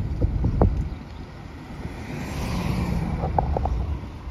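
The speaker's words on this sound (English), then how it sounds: "Wind is out of the south today, which is kind of typical for this time of year." Wind blowing outdoors on a southerly breeze at a Texas coastal market setup, a steady broad rush with low rumbling gusts continuing throughout, with a few faint distant tones near the end.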